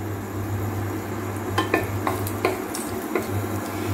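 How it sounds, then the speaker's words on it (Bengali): Whole garam masala crackles in hot mustard oil in a kadai, a steady close sizzle with a low hum underneath and a few sharp spoon or metal clinks toward the end. "তেল গরম হয়ে গেছে এবার আমি গোটা গরম মশলা দিয়ে দিচ্ছি"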